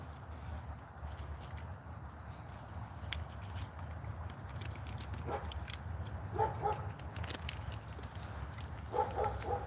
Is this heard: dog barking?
yes